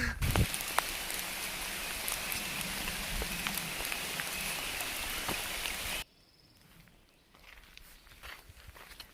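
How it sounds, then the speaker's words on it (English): Light drizzle falling on the Appalachian Trail in North Carolina, a soft steady patter of rain on foliage with faint footsteps for about six seconds, then a quieter stretch with only sparse drips. "It's a bit drizzly."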